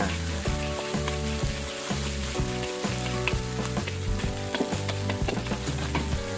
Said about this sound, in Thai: ผัดให้เข้ากันเลยนะครับ จะผัดแบบไหนก็ได้นะครับ